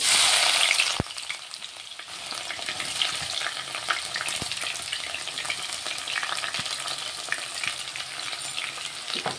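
Chopped onions dropped into hot oil for a soy chunk and potato masala curry, hissing into a steady close sizzle, with sharp clacks of a spoon stirring the pan now and then.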